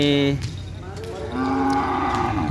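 A cow moos loudly and close by, two long drawn-out lows with only a brief pause between them, at a karapan sapi bull race.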